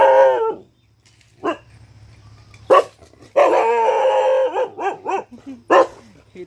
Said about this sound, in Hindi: वो बिल्कुल भौंकता ही है।